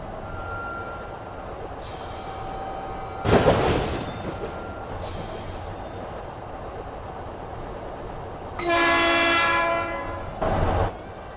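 A subway train in the Rail Ultimate 2 video game rumbles steadily along the track, rounding a long curve and emerging above ground, with several short horn blasts and a squeal of wheels or brakes near the end.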